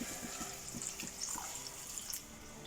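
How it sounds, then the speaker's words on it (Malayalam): Water pours into a pan of sautéed mango, onion, tomato, ginger and green chilli for a prawn and mango curry, making a soft, faint, continuous splashing trickle with light liquid patter. "അതിലേക്ക് നമുക്ക് വെള്ളം ഒഴിച്ചു കൊടുക്കാം ആവശ്യത്തിന്"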